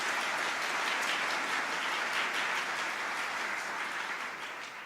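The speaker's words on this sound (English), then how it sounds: "One more round of applause for them," Dense, sustained applause from a large audience at a city state-of-the-city speech, a broad wash of many hands clapping that holds steady and fades slightly at the end, no talking.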